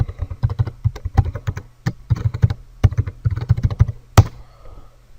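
Someone types a password on a computer keyboard, a quick uneven run of close, crisp key clicks with brief pauses and one sharper final key press, no talk.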